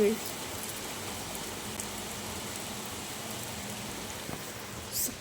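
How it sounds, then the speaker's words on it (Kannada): Heavy rain pours down in a dense, steady hiss, with a voice speaking briefly over the downpour. "ಲಿಟ್ರಲಿ ಮಳೆ ಬರ್ತೈತೆ"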